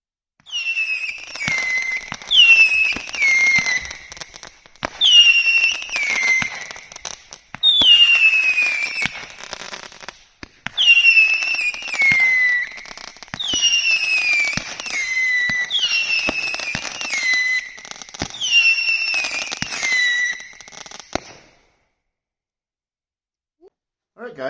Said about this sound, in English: It's not that crazy of a firework as far as various effects